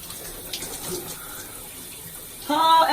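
Water runs steadily from a tap while box braids are rinsed, a soft continuous hiss that swells louder near the end, with no talking.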